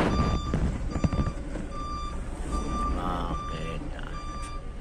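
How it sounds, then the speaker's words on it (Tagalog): Repeated electronic beeping from a dashcam alert inside a delivery truck, sounding as a steady tonal beep several times over engine rumble and cab noise, with a brief spoken word. "Dashcam ko yan dito sa truck."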